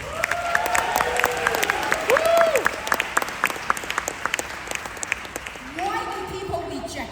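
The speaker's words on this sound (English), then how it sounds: "Give yourself another big round of applause." A convention audience in a large hall breaks into sustained applause, dense rapid clapping with occasional whoops and shouted voices over it, continuing loudly throughout.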